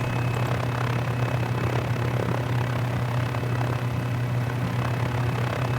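Mini 500 helicopter engine running steadily at close range as the small helicopter begins to taxi, a continuous loud drone with a strong low hum and no talk.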